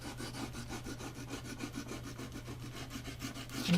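White pastel rubbed back and forth over a colored drawing on paper, a steady rhythmic scratchy rasp of strokes repeating through the whole stretch, close and fairly loud with no talking.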